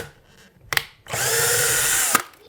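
Power drill driving a screw through a kitchen shelf into a toggle bolt in the wall: a short click, then one steady whirring run of about a second, close and loud, with no talk.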